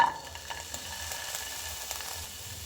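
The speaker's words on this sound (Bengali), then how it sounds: "এবার একই কড়াইয়ে দিয়ে দেব রসুন," Garlic going into oil in a kadai that just held fried peanuts, a steady low sizzle and faint stirring close by, quiet and without talk.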